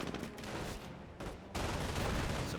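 Gunfire and explosions from a Company of Heroes 1 battle, a dense, continuous crackle of rifle and machine-gun fire mixed with blasts, moderately loud and steady throughout.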